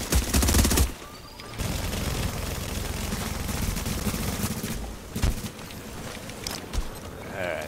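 Bursts of MG5 machine gun fire in The Division, a loud sustained volley after a brief opening burst, with a short pause and then more rapid firing and scattered shots.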